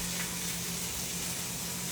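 Pork chops sizzle and fry in a hot pan, a steady dense crackle that runs evenly throughout with no pauses or talk.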